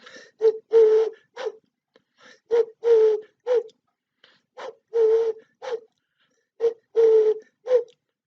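A person imitates a pigeon's call, repeating soft cooing phrases in short bursts with brief pauses between them.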